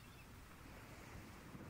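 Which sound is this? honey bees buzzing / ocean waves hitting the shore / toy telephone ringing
ocean waves hitting the shore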